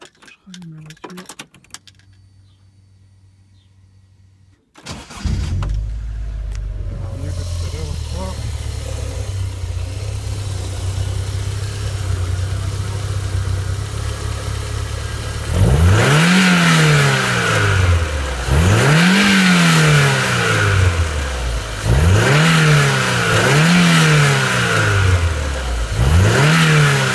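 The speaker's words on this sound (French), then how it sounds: "Accélération jusqu'à 5000." A car engine, with its circuit pressure just released at 71 degrees, cranks and catches, idles steadily, then climbs through a series of loud rising revs toward 5000 rpm, each rev sweeping up and falling back in a repeating rhythm.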